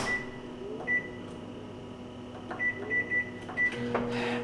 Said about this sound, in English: I'm going to put this in the microwave for 1 minute and 30 seconds